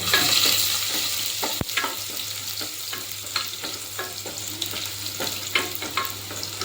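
Garlic and other ingredients sizzling in oil in a pan for a soybean curry, a steady frying hiss with repeated scraping stirs of a spatula and one sharp knock against the pan, no talk.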